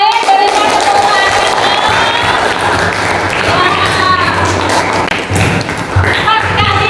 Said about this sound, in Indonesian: Irvina, yuk yang lain berikan tepuk tangan.